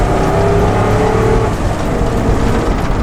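A Chinook RV with a 6.8 liter V10 engine, short wheelbase and big tires accelerates, its loud steady engine drone rising with a faint whine before settling into a rougher rumble, with no talking.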